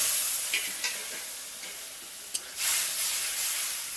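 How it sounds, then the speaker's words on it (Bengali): Powdered spices—salt, chilli, turmeric, cumin and coriander—with a splash of water stir-fried in oil in a pan, a steady close sizzle and hiss with soft scraping stirs throughout and a sharper burst of sizzling near the end, no talk. "মশলাটা আমি ভালো করে কষিয়ে নিই, যতক্ষণ না তেল ছাড়ছে ততক্ষণ কষাবো।"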